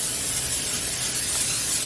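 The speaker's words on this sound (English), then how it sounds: "I am going to spritz a little bit of the Pam olive oil spray on top." Pam olive oil cooking spray spritzed over food during home meal prep, a steady, close hiss lasting about two seconds with no pauses.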